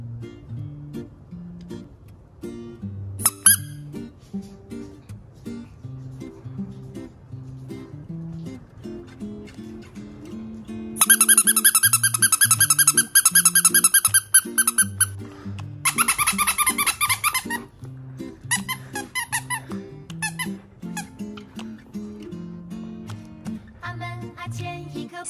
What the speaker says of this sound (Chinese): 发声玩具。